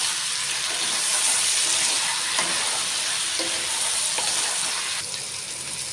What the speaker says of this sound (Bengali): লবণটা দেওয়ার পরে আর একটু ভালো করে কষিয়ে নেব, মানে বেশি ভালো করে ভাজা হবে।